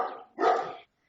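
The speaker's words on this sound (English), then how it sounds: "He's got a good bark." Great Dane barking indoors, two deep, full barks in quick succession, close and fairly loud, then silence.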